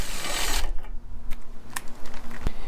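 A ratchet works on 10mm bolts under the bottom edge of a 1999–2004 Jeep Grand Cherokee fender near the rocker panel, giving a whirring mechanical burst followed by several sharp, separate clicks and clacks close by.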